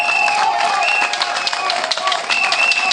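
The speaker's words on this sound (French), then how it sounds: "n'ayez absolument pas de réserve à applaudir ce conseil" Audience applauding a municipal council at a public event in Massok, a dense steady wash of clapping from a sizeable crowd, continuous for the whole stretch with a tone or two ringing faintly through it.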